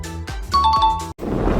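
A notification bell sound effect rings out as a short run of bright ding-dong chimes that ends abruptly and gives way to a soft hiss.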